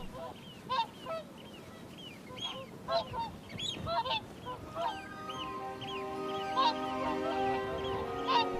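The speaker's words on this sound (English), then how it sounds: "The swans are in transit," Swans call in repeated honking bursts over a wild Scottish setting, several birds overlapping at moderate distance, the calls growing more frequent and layered toward the end.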